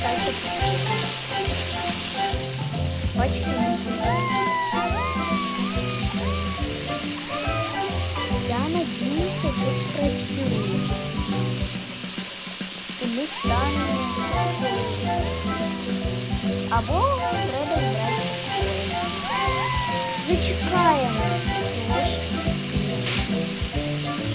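Food sizzles in a frying pan with a steady crackle while chirpy, bouncing Roblox game tones and voices play over it, briefly dropping out midway.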